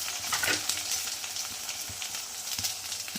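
Capsicum paneer curry with ginger-chilli paste and green garlic sizzles in a pan, a dense close hiss broken by scraping stirring strokes at irregular intervals.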